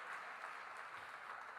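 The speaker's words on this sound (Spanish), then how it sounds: "Démosle un fuerte aplauso al Señor." A church congregation claps together in a faint, steady patter that holds evenly for a moment, with no voices heard over it.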